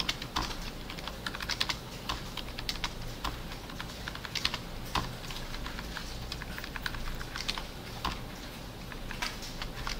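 Fast, steady typing on a computer keyboard, a dense run of close clicking keystrokes with no pauses and no talk, as someone works through database software using only the keys.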